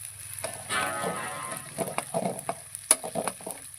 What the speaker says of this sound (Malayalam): നമ്മൾ കടുക് താളിച്ചിട്ടുണ്ട്, ഉലുവ ഇട്ട് മൂപ്പിച്ചിട്ടുണ്ട്.